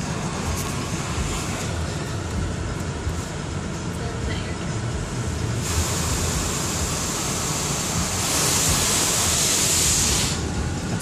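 Automatic car wash at a Valero station spraying rinse water over a car, a steady close hiss and roar of spray heard from inside that swells louder near the end.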